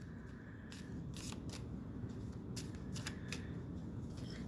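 Tarot cards are shuffled by hand in soft, quick riffling bursts over a steady low background hum; the shuffling is faint and close, and no one talks.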